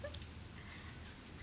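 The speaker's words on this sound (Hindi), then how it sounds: "बारिश हो रही है" Steady rain falling outdoors, a soft continuous hiss with faint patter, quiet and even throughout with no voices.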